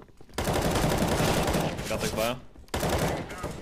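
Rapid bursts of rifle gunfire in Counter-Strike: Global Offensive on the Dust II map, loud and dense, broken by a short pause before another burst, with a player's voice speaking briefly over it.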